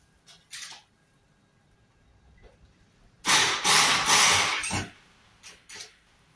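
A cordless Phillips screwdriver backs screws out of a VW LT31 Karmann Distance Wide camper body during strip-down, giving one loud sustained whir of about a second and a half, followed by a couple of short bursts.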